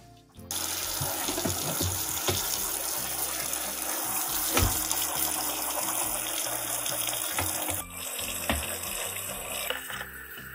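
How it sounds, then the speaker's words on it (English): Water runs steadily from a tap into a sink for about ten seconds, a close, continuous splashing gush with occasional clunks and a brief shift in flow near the end. "Water. Okay, let's go to the other sink."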